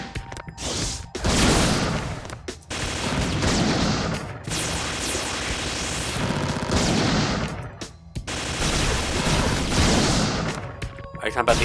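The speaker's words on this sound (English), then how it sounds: "Are you talking about the up cannon attack?" Rapid, repeated cannon blasts from a magical girl's up cannon attack in the Madoka Magica game on Wii U, dense and loud bursts running almost continuously under game music.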